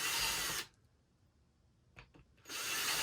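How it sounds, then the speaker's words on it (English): A power drill bores pilot holes near the edge of a plastic lid: two loud, close bursts of whirring, grinding buzz, separated by a quiet pause with a couple of faint knocks. "I'm going to drill some holes near the edge"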